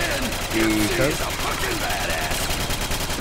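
An upgraded RPD light machine gun fires in a custom Call of Duty zombies map, a fast, steady stream of shots rattling beneath voices talking over it throughout.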